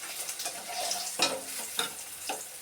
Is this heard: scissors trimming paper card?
no